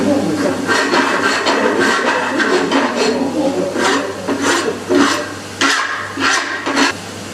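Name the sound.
filing metal with a hand file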